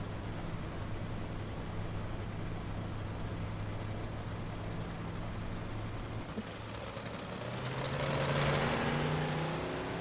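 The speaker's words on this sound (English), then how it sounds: "Watching the car come off of pit road." A race car pulls off pit road during a caution at a heat race at Oswego, its engine droning steadily and then rising in pitch and loudness as it accelerates away near the end.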